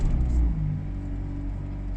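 A Mazda MX-5 2.0 SKYACTIV-G catches with a brief louder rumble on keyless start, then settles into a low, steady idle heard from close by.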